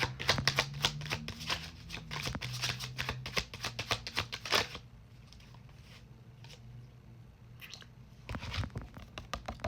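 Tarot cards are shuffled in quick, crisp riffling bursts for several seconds, followed by a quieter pause with a few faint card flicks and a final short flurry as a card is drawn; no talking.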